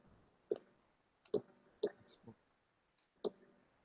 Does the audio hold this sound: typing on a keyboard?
yes